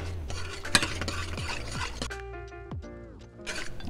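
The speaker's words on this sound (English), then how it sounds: "And then we're just going to stir in the mustard." A spoon stirring mustard through food in a pan, with soft repeated scraping and clinks against the metal over a faint sizzle, close and fairly quiet.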